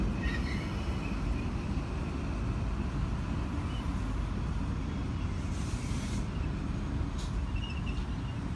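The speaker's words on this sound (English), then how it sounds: "Now we have another XPT arriving in platform number 2 to form the Daylight Melbourne XPT service." An XPT passenger train led by its locomotives pulls into a station platform for the Daylight Melbourne service, a steady loud rolling rumble of wheels and engines with a few faint squeals, no voices heard.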